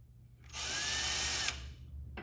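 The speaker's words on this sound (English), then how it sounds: "putting a small drill puncture hole just in the back of each one to help get that screw started" A power drill bores a small pilot hole into the back of a laminate table part, one steady high whine lasting about a second, close and loud over a low hum, then stopping.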